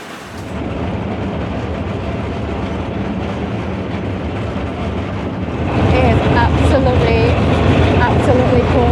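A desert train in Jordan rolls along the rails with a constant loud rumble and clatter, growing louder partway through, with squealing metallic tones near the end.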